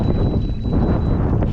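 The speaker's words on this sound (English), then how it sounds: "It's super windy here." Steady wind buffeting a microphone on a fishing kayak, a continuous low rumble with no pauses, loud and close throughout.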